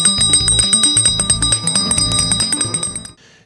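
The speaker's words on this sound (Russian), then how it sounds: "Пожалуйста, последний звонок для вас." A school's last bell rings loudly and continuously at close range, a rapid metallic trill of struck strikes lasting about three seconds before stopping abruptly.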